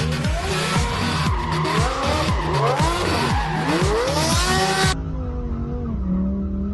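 A car drifts on a stunt course, its tires squealing and skidding in long wavering screeches over a revving engine that rises and falls. The sound is loud and close, then cuts to a quieter, muffled engine drone.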